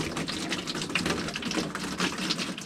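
Slightly warmed water poured into a container for plants in a greenhouse garden shed, a loud, continuous splashing gush heard up close with no talk.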